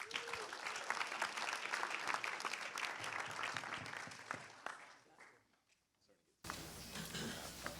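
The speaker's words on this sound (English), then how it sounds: "let's go ahead and give a giant round of applause" Applause from an audience at a hall of fame panel, a dense wash of clapping that fades out near the end before a burst of room noise returns.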